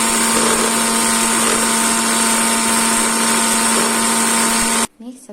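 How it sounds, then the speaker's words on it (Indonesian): A kitchen blender grinds cumin, cardamom and a little nutmeg to a fine powder, a loud steady whirring motor roar that runs continuously and then cuts off abruptly near the end. "Kita haluskan dulu pakai blender."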